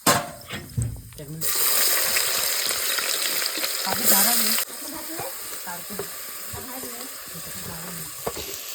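Sliced onion frying in hot oil with whole spices, a loud, bright sizzle that bursts up after a quiet start and then settles to a softer crackle, with a voice talking over it at times.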